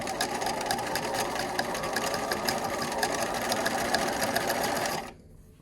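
A sewing machine stitches the seam of a fleece beanie, its rapid mechanical chatter running steady and close for about five seconds before stopping abruptly, leaving quiet room tone.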